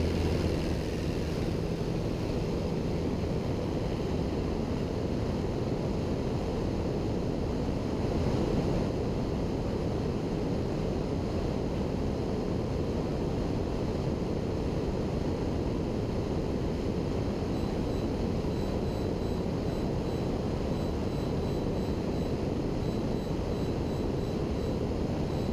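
A PA28 Archer light aircraft on its takeoff roll, heard from inside the cabin: a constant loud, broadband engine drone and wind rush, steady and unbroken throughout.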